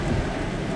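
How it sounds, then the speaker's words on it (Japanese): Heavy downpour during a typhoon beside a hot spring, a dense, constant roar of rain hissing loudly and evenly across the whole moment with no voices. "雨がついた途端にもう土砂降りになってきた"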